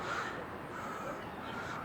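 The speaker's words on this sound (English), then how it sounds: "Seagulls are everywhere." Seagulls calling outdoors, a continuous harsh cawing cry heard fairly close throughout.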